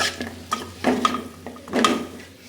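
Paneer and butter stirred in a pan for Kerala-style chilli paneer, a utensil scraping and clinking against the metal in a few separate strokes, close up, with faint background hum and no talking.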